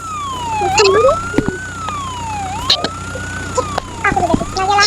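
Wailing ambulance siren in a Roblox horror game, sweeping slowly up and down and loud throughout, with clicks and game effects scattered over it.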